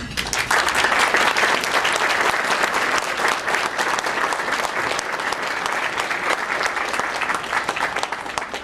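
A dinner audience claps for a Gold Star mother at a gala dinner, in dense, sustained applause that stays strong for the whole stretch, many hands overlapping with no gaps and no talk over it.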